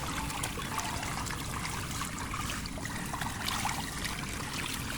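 Floodwater running along a street after obstructions blocking it are cleared, a steady broad rushing and trickling flow that fills the whole stretch at moderate level with no talk.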